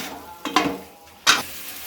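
Potatoes stirred with lemon juice in a pan, two short bursts of scraping and sizzle separated by quieter hiss, close by and with no talk.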